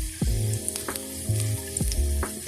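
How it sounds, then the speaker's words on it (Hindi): Garlic sizzles in hot oil for masoor dal, a steady close frying hiss broken by a few rhythmic scraping strokes and small clinks of utensils, with no talking. "ये ऑयल गर्म हो गया था, मैंने इसमें लहसुन डाल दिया।"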